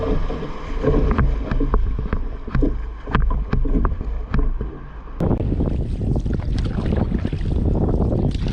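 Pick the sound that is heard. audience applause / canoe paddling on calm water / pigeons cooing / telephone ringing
canoe paddling on calm water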